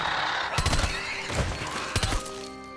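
Gunshots in a science-fiction film scene kill a creature: several sharp, loud reports in quick bursts with brief gaps between them, close and punchy, followed by a quieter tail.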